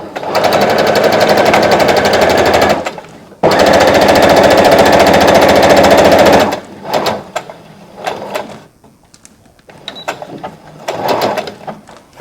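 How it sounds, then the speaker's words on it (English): Sewing machine running a straight stitch along a garment seam for a godet, loud and steady in two long runs with a brief stop between, then quieter intermittent clicks and handling. "So get on the machine and sew a straight stitch to that point here."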